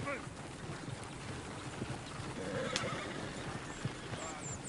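A horse neighs in Red Dead Redemption 2 amid outdoor ambience, with wind, hoof clops and a brief whinny; the sounds are moderately distant, and a voice speaks in the background.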